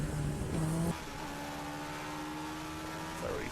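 Race cars at Silverstone's Club corner in a 750 Motor Club Cup 200 race sweep past three abreast, a loud steady engine drone with a pitch shift and brief high squeal as one car passes on the inside.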